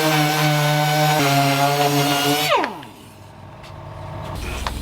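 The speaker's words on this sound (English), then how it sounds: "I haven't used the DA sander on the foam yet" A DA sander fitted with a 40 grit disc sands foam for a Toyota Cressida bumper, its motor whining steadily up close before switching off and spinning down into a quieter background.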